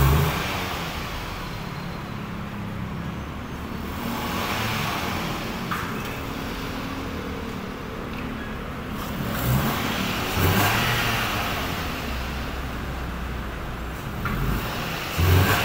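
A Toyota Vios with a leak runs on a short test drive, its engine a steady mid-pitched drone that swells as it revs, heard close and fairly loud from inside the car.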